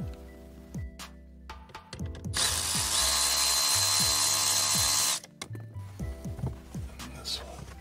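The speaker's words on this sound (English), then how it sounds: "Remove this bolt here." A bolt is removed from a 2019-2023 Toyota RAV4 during a fog light kit install. A few seconds of continuous tool whirring sit among scattered clicks and taps, close by.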